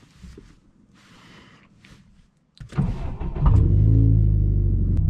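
A Subaru STI pulls away after a quiet pause, its engine rumble jumping in and then swelling into a loud, sustained acceleration heard from inside the car.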